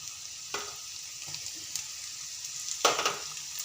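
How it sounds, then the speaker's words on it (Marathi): Spices, garlic paste and fresh grated coconut fry with onion in a pan for a green mung bean dish, a steady quiet sizzle broken by several louder bursts of hissing as ingredients are stirred or added. "तर आपला कांदा झालेला आहे तर मी मसाले घालत आहे लसणाची पेस्ट व ओलं खोबरं"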